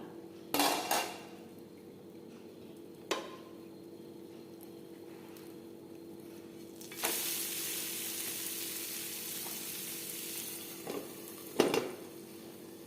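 Egg uttapam frying in a covered pan on the stove, with a steady soft sizzle and a few sharp clatters and scrapes of a spatula and lid as it is flipped, no talking.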